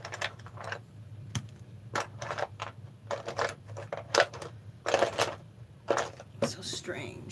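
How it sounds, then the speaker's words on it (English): Rustling and clattering through piles of craft supplies on a desk for mixed-media collage work, a run of close, uneven bursts of tapping, shuffling and clicking. "Why do you hear me rustling through everything?"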